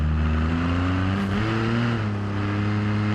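A race car engine in the BeamNG driving game drones loudly with steady harmonic tones that shift pitch as it changes gears and revs, heard close without any talk.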